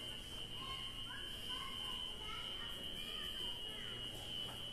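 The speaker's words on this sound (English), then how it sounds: "The fire alarm's still going off." A fire alarm sounds inside the NYC Port Authority terminal as a continuous high, piercing tone. It is fairly faint and distant, with indistinct voices talking underneath.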